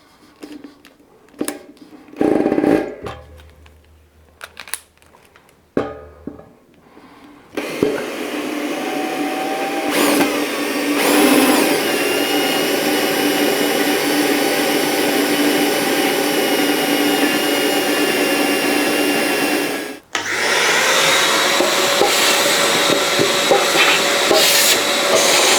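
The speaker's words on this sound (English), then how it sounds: "While I was cutting, I got through the steel part to the stainless steel" Drill bit cutting through the steel heating element of a tea urn with cutting oil, a few short bursts at first, then a loud sustained whirring grind that breaks off briefly and resumes.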